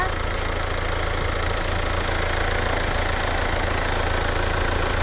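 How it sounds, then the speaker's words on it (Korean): A Hyundai Santa Fe The Prime 2.0 diesel 4WD engine idles steadily, heard close from the open engine bay as a constant low rumble with an even, unchanging tone throughout. "엔진 소리 일정합니다."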